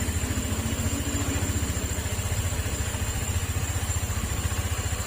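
A Rusi 175 motorcycle engine idles steadily up close, a loud, even low-pitched putter with a fast regular pulse and no talking.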